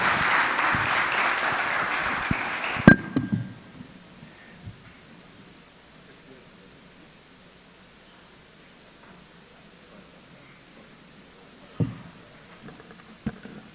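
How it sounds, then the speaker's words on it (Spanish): An audience at a Costa Rican panel on the CCSS and social security applauds for about three seconds. The applause ends abruptly and leaves a quiet room with a few scattered knocks. "Un aplauso por la transparencia de don Gustavo"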